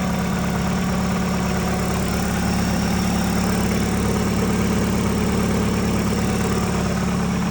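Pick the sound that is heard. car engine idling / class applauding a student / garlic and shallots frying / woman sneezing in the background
car engine idling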